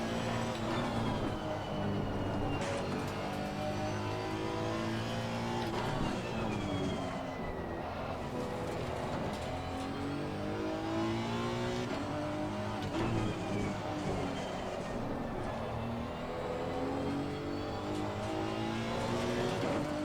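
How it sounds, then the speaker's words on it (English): Race car pushed hard on a hot lap at Zandvoort, its engine roaring continuously and rising and falling through gear changes and corners, loud and close throughout. "a couple of laps where I really try and push the car as hard as I can"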